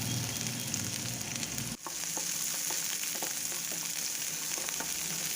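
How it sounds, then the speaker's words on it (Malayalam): Onion, ginger and garlic sauté in hot oil in a pan, making a steady close sizzle with light stirring clicks. There is a brief dip near the start and no talk. "എന്നിട്ട് ഇതെല്ലാം കൂടെ ഒന്ന് വഴറ്റിയെടുക്കാം."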